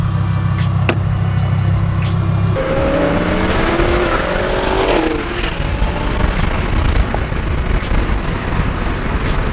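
A Lamborghini Huracán Performante supercar accelerates hard from 0 to 60, its loud engine roar rising through the gears amid heavy wind and road noise from inside the cabin.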